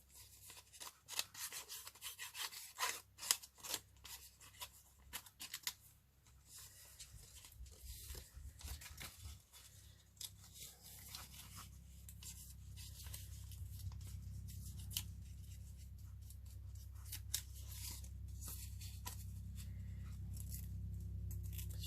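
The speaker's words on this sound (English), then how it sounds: "rough it up with the scissors" Close scissors snip and rasp repeatedly at paper, with rapid irregular cuts and rubbing sounds over a low background hum.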